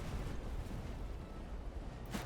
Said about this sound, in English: Alright, the cannons.